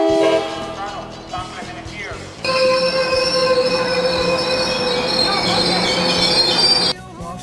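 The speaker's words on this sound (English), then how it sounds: "Bob Keller, Dub Egbert, and Dave Muchnick at the Santa Ana train station for the 811 train." Passenger train at the Santa Ana station: a quiet rumble, then loud sustained wheel squeal and rolling clatter of rail cars close by, cutting off abruptly near the end.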